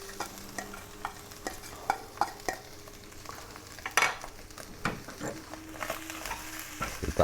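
Boiled cassava leaves are stirred in a frying pan with Manado-style smoked skipjack, the spoon scraping and tapping in irregular strokes over a soft sizzle, close and fairly quiet.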